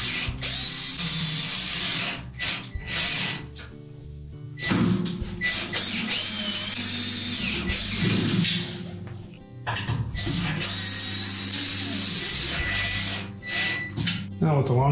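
Power drill threading 10-24 screws into a Whirlpool washer during a transmission seal repair, loud bursts of whirring motor with ratcheting clicks, stopping and starting repeatedly, close up with a person talking between runs.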